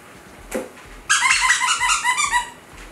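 A squeaky dog ball toy gives one short squeak, then a quick run of rapid high squeaks for about a second and a half, close and fairly loud against a quiet room.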